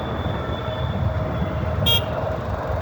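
Metro train at Sector 42 metro station, heard from beneath the station: a steady low rail rumble with a short, sharp horn toot partway through.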